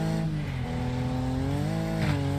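Race car engine in the Wreckfest racing game, revving steadily at high pitch with rising and falling tone, loud and continuous with no talk.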